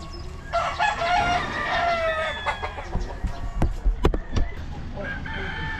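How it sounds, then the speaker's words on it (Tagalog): Roosters crow repeatedly at a gamefowl farm, long drawn-out calls overlapping near and farther off, with scattered clucks and a sharp flurry of activity toward the end. "ikot muna tayo dito sa manukan ni Boss Jerry"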